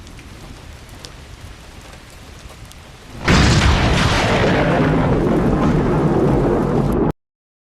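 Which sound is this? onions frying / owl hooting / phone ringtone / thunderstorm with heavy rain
thunderstorm with heavy rain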